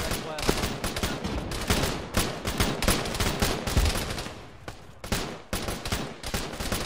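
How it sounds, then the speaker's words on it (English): Gunfire and a cannon in a military shooter game set in Takistan, with dense, continuous bursts of automatic fire and heavy booms that hammer nearly the whole time, loud and close, with only a brief lull. "God, I love that cannon"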